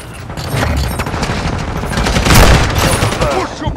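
Dense gunfire from the video game Call of Duty: Modern Warfare II, a loud continuous fusillade of overlapping shots and bursts, with some indistinct voices mixed into the battle noise.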